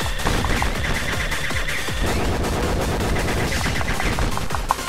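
Dense rapid gunfire from the bullet-hell game Enter the Gungeon, loud and continuous, with overlapping shots and bursts stacking into a steady barrage with no talking.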